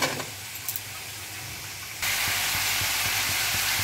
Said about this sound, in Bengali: এবার আমি সিম আর ছোটো ছোটো টুকরো করে কেটে রাখা আলুটা একসাথে দিয়ে দিচ্ছি